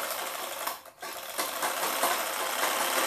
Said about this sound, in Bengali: তো এটাকে আমি সেলাই করে নিচ্ছি এরকমভাবে।